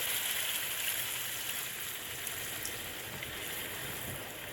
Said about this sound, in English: Now I am going to add the water to it